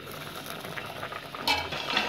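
Soft bubbling of a simmering Kerala-style fish curry with faint clinks of a utensil against the pot, close and low in level.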